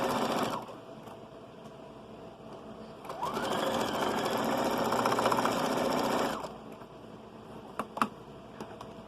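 A sewing machine stitches seams on a child's shrug and hat in a home sewing setting, running in a steady close whir for about three seconds, with quieter handling sounds and a couple of brief clicks around it.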